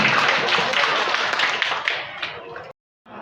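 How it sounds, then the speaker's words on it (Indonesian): A crowd at a social-aid handover ceremony in Indonesia applauding with dense, steady clapping, fairly loud and close, that stops abruptly near the end before a brief resumption. "Boleh tepuk tangannya lagi."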